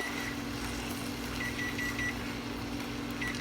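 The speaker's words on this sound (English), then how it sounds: "You hear my timer going off" A kitchen timer beeping while meatloaf bakes, with short bursts of thin electronic beeps repeating in clusters over a constant low appliance hum in a quiet kitchen.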